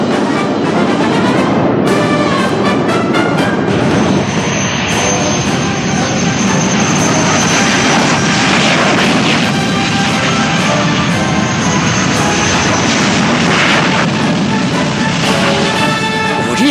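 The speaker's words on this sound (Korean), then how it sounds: "30m의 초저공 비행, 공중 기교 비행 등 어려운 비행 동작을 훌륭히 수행했습니다." Military jet aircraft flying aerobatic maneuvers, including rapid climbs, inverted turns and ultra-low passes at about 30 m, make a loud, continuous engine roar that swells and fades across the whole stretch, with no talk over it.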